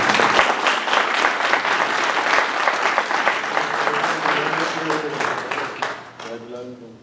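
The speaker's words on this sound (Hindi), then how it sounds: "मैं चाहता हूँ एक दफ़ा उनके लिए फिर भरपूर तालियां बजाएं।" Hearty applause from the audience at a mushaira poetry gathering, a dense wash of clapping that swells early and fades toward the end as a voice begins speaking.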